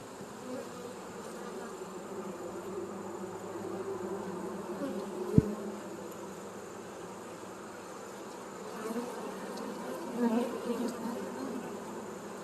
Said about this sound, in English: that is the sound of some angry bees